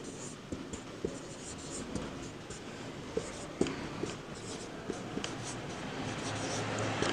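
A pen scratches out a sentence on paper or a board during a lesson, with soft intermittent strokes and taps close by over a faint room hum.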